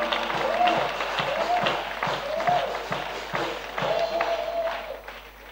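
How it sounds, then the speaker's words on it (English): A congregation at an evangelistic gathering claps in a roughly steady beat, with a voice speaking and chanting over the clapping throughout. "Acclame, acclame. Clap."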